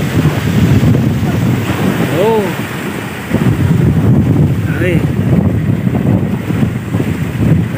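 Steady roaring wind buffets the microphone over a constant wash of big, heavy surf at sea off Occidental Mindoro, Philippines, during fishing, with a couple of brief vocal exclamations.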